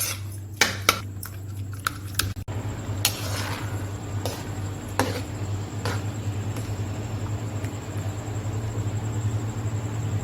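Cooked pumpkin for petha halwa is mashed in a pan, with a few sharp metal utensil clinks and scrapes against the pan early on, then a quieter stretch over a steady low hum of the stove.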